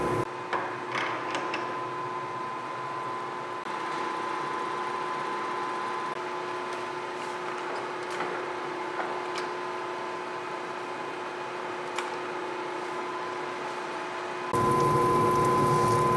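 A horizontal boring mill spindle spins steadily for a damaged-thread repair, giving a constant mechanical hum with a sustained tone and faint clicks throughout, then a slight rise in level near the end.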